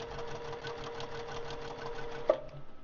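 Sewing machine stitching across fabric for a basket, a steady close rhythmic whir of the needle that ends with a small click.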